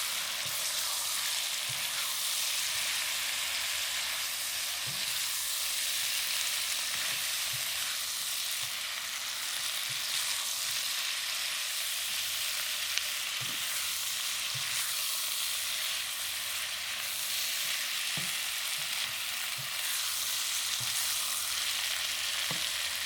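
Broccoli sizzles and fries steadily in a pan with pork and sesame oil, a continuous close hiss with occasional soft crackles and stirring knocks.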